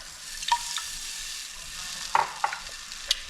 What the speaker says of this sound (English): and then whisk until thick